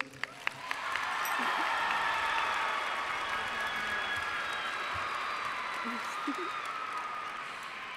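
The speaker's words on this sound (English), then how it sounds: "Please give a warm welcome of applause to Brennan's class of 2024 valedictorian, Megan Wilson." Audience applause at a high school graduation ceremony as the class valedictorian is welcomed, a broad, even wash of clapping that swells after a few isolated claps and holds steady to the end.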